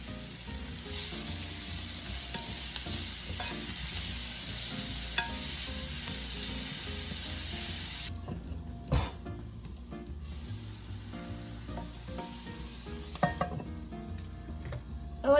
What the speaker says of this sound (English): Now we're just going to saute this until it's cooked through.